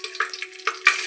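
Bay leaf dropped into hot oil for bhaja khichuri, a soft frying sizzle with a few brief crackling bursts, close and steady with no talk.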